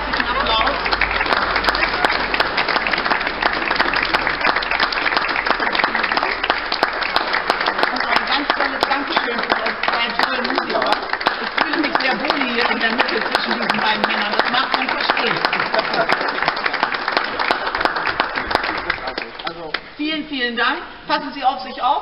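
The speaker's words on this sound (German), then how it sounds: "ich bitte nochmal um einen ganz herzlichen Applaus" An audience gathered in a tunnel for a peace concert applauds loudly and steadily for a long stretch, the dense clapping echoing, before it thins into scattered claps near the end.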